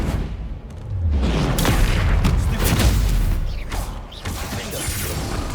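A Confringo fire spell bursts in Hogwarts Legacy, a loud booming blast with rumbling, crackling debris that sustains for several seconds, with no talking over it.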